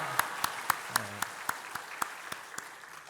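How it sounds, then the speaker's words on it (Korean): A congregation at an Easter service claps in unison, roughly a dozen sharp, evenly spaced beats in a steady rhythm, crisp and fairly close, with a faint low hum beneath. "우리 박수 한번 쳐주시기 바랍니다"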